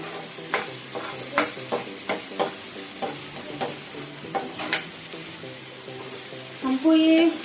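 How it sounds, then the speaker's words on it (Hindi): Onions sautéing in a pan for Rajasthani dal bati: a soft, continuous sizzle with a spoon scraping and stirring in a loose rhythm, close up, ending in a brief louder burst. "हमको ये ऑनियन को गोल्डन ब्राउन होने तक सौते करना है।"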